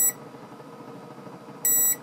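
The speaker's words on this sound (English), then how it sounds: "If you get a beep," A digital multimeter on continuity test beeps twice, a short shrill tone at the start and another near the end, with a quiet hum between them.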